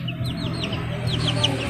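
Black Bulik chickens in a yard give a run of short clucks and chirpy calls over a low, steady background hum.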